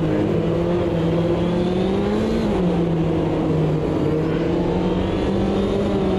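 A Porsche race car engine in the Automobilista 2 racing game holds a loud, steady, buzzing drone close up. Its pitch sags and climbs through the gears as the car fights for position, with no voices over it.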